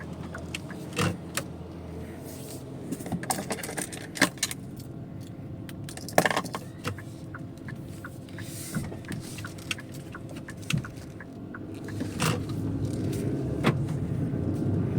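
A car on the road during an afternoon school run, with steady road and engine rumble throughout, punctuated by scattered clicks, key jangles and small interior knocks, and no talking.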